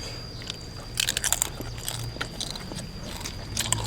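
Crispy pork skin being bitten and chewed up close, a series of sharp, crackling crunches clustered near the start, followed by quieter intermittent crunching against a faint background hum.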